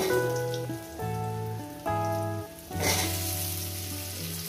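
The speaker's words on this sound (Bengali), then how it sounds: "আলুটাকে সুন্দর করে আমি একটু ভেজে নেব।" Potatoes fry in a pan for a Bengali fish-head chorchori, a soft, continuous sizzle that sits under louder background music with sustained tones shifting every second or so.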